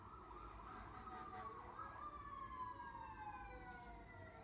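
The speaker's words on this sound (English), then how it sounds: "We have the music of Jersey City in the background," Faint sirens wail in the distance in Jersey City, their pitch sliding slowly downward over a low rumble of city traffic.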